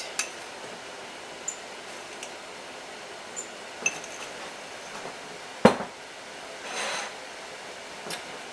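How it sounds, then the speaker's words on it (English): A spoon clinks lightly against a glass pint jar while adding pickling salt for canning spinach, a few sparse taps and one sharper clink, with soft granular rustling in a quiet kitchen. "I'm putting half a teaspoon of pickling salt"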